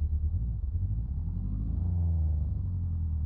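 A BMW M4 idling in Euro Truck Simulator 2 on a busy Istanbul street, a steady deep low rumble that holds evenly throughout with no revving.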